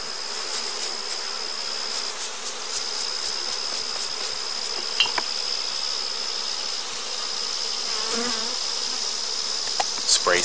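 Honey bees buzz steadily in a sustained high drone as live bees are brushed into a jar, with a few brief clicks and shifts, no talking.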